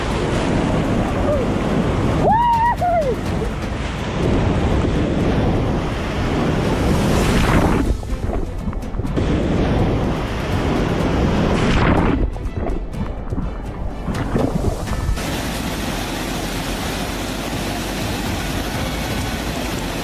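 Stormy ocean waves crash and roar amid strong wind buffeting the microphone, a long loud continuous rush with surging bursts and a few brief lulls, heard around a vessel at sea with no clear voices.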